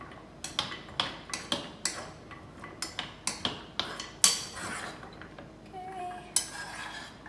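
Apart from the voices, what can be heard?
spoon stirring macadamia nuts in buttery sauce in a pan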